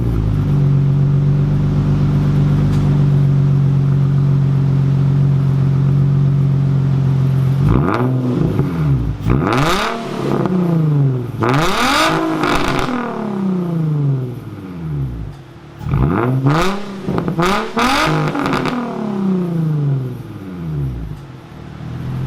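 A Dodge Scat Pack with a new titanium exhaust fires up on its first start, settling into a loud, steady idle before a series of sharp, aggressive revs rise and fall in bursts, with no talking.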